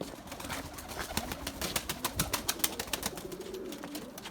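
A pet pigeon settles near its loft and coos in a low, repeated rhythmic call, close by, over a dense backdrop of sharp taps and rustling.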